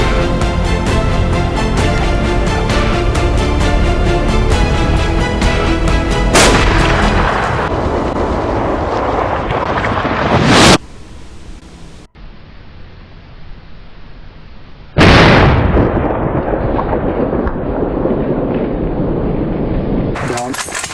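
Loud rifle shots during a free-range sable antelope hunt: two sharp blasts near 10.5 and 15 seconds cut through dense outdoor noise, the first followed by a brief drop to quieter ambience before the second.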